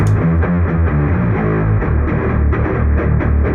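A heavy, distorted low-tuned electric guitar riff with chugging palm-muted notes, loud and dense throughout.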